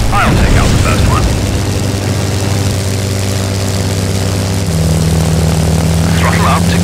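Steady propeller-plane engine drone from a World War II fighter in Secret Weapons Over Normandy, a loud continuous hum whose pitch rises near the end as throttle increases, with a brief burst of game chatter at the start.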